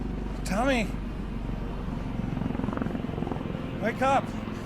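A rescue helicopter returns over a wilderness valley, its rotor hum running low and steady beneath two brief, strained voiced cries.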